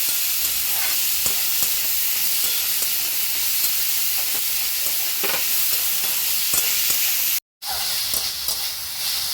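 Boiled banana flower sautés in a pan with a loud, steady sizzle and scraping stirs, broken by one brief silent gap near the end before the frying resumes.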